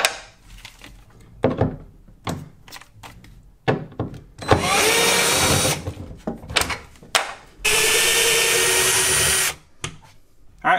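Power drill backing screws out of a Toyota Tacoma's Rough Country tonneau bed cover, running in several short bursts and then two long sustained whirring runs, close and loud, with thunks between.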